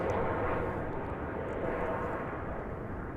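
A passenger airliner arriving at Dallas/Fort Worth Airport on its flight in from Frankfurt, approaching on the east side, gives a steady, loud, broad engine roar that holds evenly throughout with no voices.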